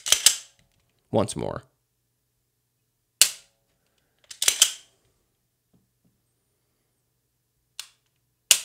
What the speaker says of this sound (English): Then you break through the wall, and you're rewarded with a crisp, clean snap.